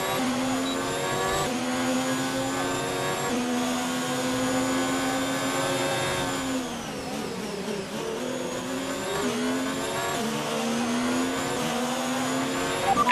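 A Formula 1 race car engine in the F1 2019 video game screams at a steady high pitch, shifting up through gears with brief dips and a lull midway before climbing again. It is loud and continuous, heard from onboard.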